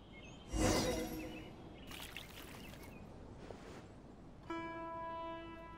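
Water pours in Genshin Impact, a short splashing gush followed by fainter trickles and a clinking, chime-like tone at the end, with no talk.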